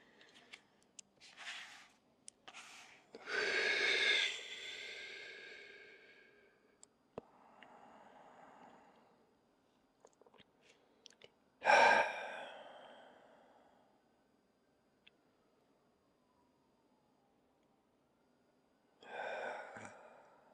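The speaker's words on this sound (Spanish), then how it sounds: "ponemos la frente y respiramos profundo." Deep breathing during a yoga child's pose, with three long loud exhalations spaced well apart and softer breaths, small rustles and taps in between.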